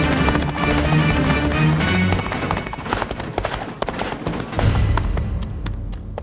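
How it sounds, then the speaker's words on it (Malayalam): Horse hooves clip-clop steadily through a Malayalam film scene, loud and close, layered with a dense music and effects soundtrack throughout. "ഈ സമയത്ത് എവിടെ നടാ കുതിരയുടെ ശബ്ദം?"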